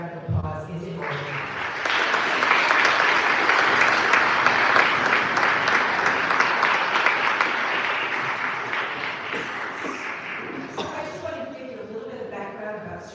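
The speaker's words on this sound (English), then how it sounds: "I think another round of applause is in order." Sustained audience applause following a student string concert at a summer string camp, loud and dense clapping that swells, holds steady and slowly tapers near the end.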